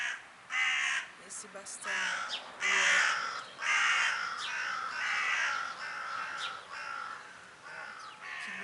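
Crows cawing outdoors in a garden, a series of harsh repeated caws coming in bursts, fairly close and prominent, with a person speaking softly in between during a crystal-bowl meditation.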